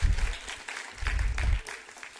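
Lecture audience at a mathematics talk breaking into applause, bursts of clapping rising and falling over a couple of seconds.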